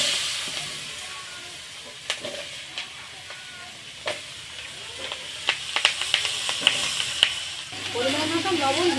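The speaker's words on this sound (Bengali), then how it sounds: "মাছ ভাজা তেলের মধ্যে আমি এখন কাটা মূলো আলুটা দিয়ে দেব।" Cut radish and potato pieces dropped into the hot oil left from frying fish, giving a soft hiss with scattered clinks and stirring scrapes, then a sudden burst of sizzling near the end.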